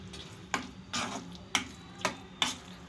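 Brinjal pachadi mixture frying in a pan, a soft steady sizzle with a few sharp stirring scrapes and taps against the pan at regular intervals, close and alone without talk.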